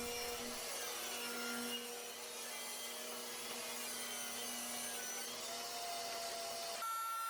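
A table saw ripping 3/4 inch poplar stock, a steady whirring cut with a sustained tonal hum, fairly quiet and close, ending with a brief shift as the pass finishes.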